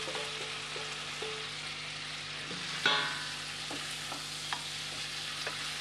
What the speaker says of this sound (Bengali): এবারে এটাকে আমি খুব ভালো করে একটুখানি কষিয়ে নেব।